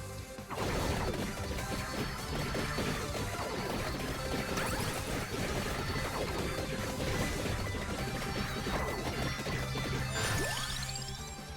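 Repeated glassy smashing bursts from the wine glass weapon in the Ode to Castlevania video game, dense and continuous under busy game music and effects, with a rising sweep near the end.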